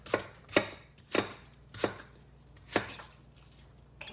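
A knife dices apples on a cutting board, six crisp, evenly spaced chops close up, with quiet gaps between the strikes.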